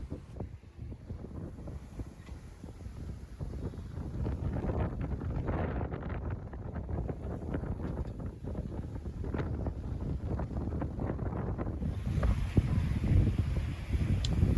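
Wind rushing over a sailboat running downwind offshore under a reefed mainsail, a steady low roaring buffet with microphone rumble and gusts that swell and ease throughout, growing stronger toward the end.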